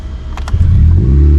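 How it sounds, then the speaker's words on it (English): A Honda Civic FN2 Type R starts by push button with the clutch down, a short crank catching into a deep, steady idle right next to the microphone. "I've got to show you how it starts up"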